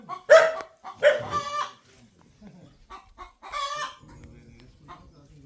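Chickens in a mesh-walled coop with a sheet roof on a farm near Peddakaparthy, Nalgonda, giving a few loud, close cackling bursts early and again near the end, with quieter clucks and low rustling between.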